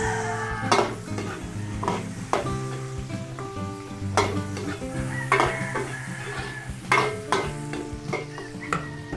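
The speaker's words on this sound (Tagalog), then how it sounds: "Tapos maglagay na po tayo ng sibuyas." Onions sauté in a pan with a constant close sizzle, while a spatula scrapes and knocks against the pan in sharp bursts spread across the clip.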